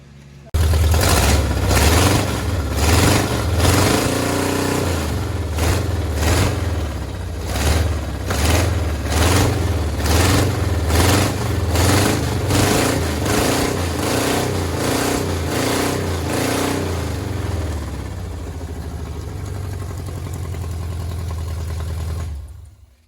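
A 1977 Ford F150 4x4 truck engine runs right after starting, a loud, rough, steady idle with a rhythmic chugging pulse that holds close for over twenty seconds before cutting off.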